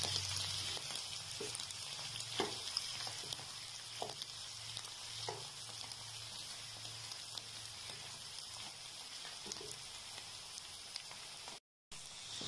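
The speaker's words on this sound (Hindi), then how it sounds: "इस तरह प्याज लहसुन और मशरूम जो है चंद मिनट के लिए भूनूंगी।" Onion, garlic and button mushrooms fry in a pan for butter garlic mushrooms, giving a soft, steady sizzle with faint crackles, heard close and alone without any talking.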